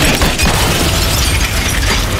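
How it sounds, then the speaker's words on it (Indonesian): The glass of a car door window shatters in a loud, dense crunching burst that fills the whole stretch, close and harsh, with no talking. "tangannya menempel pada pintu mobil hingga kacanya pecah"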